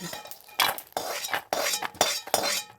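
Metal utensils scraping and clinking against a pan and bowl while fried food is transferred into a bowl, a series of close, sharp clatters in quick succession.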